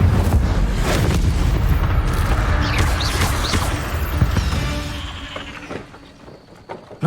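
In Hogwarts Legacy, an Incendio fire spell bursts out as a loud, rumbling whoosh of flame. Crackles and thuds of combat come with it, and the roar fades into scattered sharp hits near the end.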